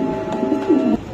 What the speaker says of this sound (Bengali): এটা কি কবুতর?